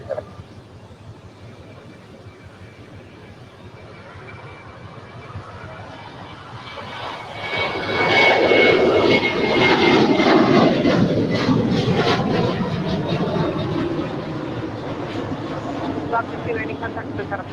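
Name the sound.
airliner taking off from LAX runway 25 right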